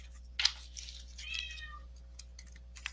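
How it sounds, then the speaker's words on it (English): A cat meows close by, with a sharp cry followed by a longer drawn-out yowl and a few small clicks, over a low steady electrical hum. "And the cat's going crazy."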